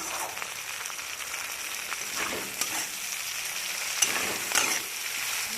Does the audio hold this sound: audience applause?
no